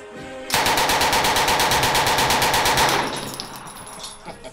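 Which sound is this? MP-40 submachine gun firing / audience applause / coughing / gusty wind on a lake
MP-40 submachine gun firing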